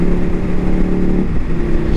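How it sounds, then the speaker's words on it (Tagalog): A loud, close Ducati motorcycle engine drones and revs continuously, rough and throaty, with no talking. "Pangis talaga ng tunog ng motor ni Kuya Omar TV."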